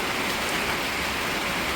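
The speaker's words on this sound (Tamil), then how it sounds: "இப்போ பாருங்க, நல்லா மழை பேஞ்சிக்கிட்டு இருக்குது." Heavy rain pours down in a dense, even hiss that stays steady and close for the whole short stretch, with no voices.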